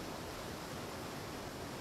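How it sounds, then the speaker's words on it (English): Waterfalls in the video game ARK: Survival Evolved give a steady, even rushing hiss with no breaks, fairly faint and continuous, no voices. "That's a lot of waterfalls."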